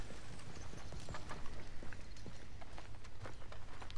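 Horse hooves gallop steadily in Red Dead Redemption 2 as the rider heads uphill toward a waterfall, a busy, continuous run of clip-clop beats over a low constant rumble, with no talking.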